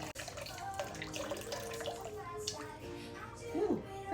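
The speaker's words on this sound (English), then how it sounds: "Start off with 700 grams of filtered water." Filtered water pours from a tap into a bowl for sourdough dough, a steady close splashing stream running throughout with faint background voices.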